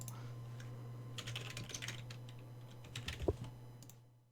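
Keys clatter on a computer keyboard in quick irregular bursts while a poll is typed, fairly close and soft with a low steady hum underneath, ending in a brief heavier tap before fading out.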